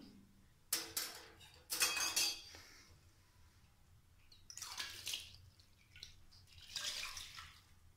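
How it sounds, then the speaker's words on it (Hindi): Water sloshes and splashes into a metal pot of masoor dal in a few short pours, with light clinks of metal between them, quiet and close. "अब इसमें हम डालेंगे पानी"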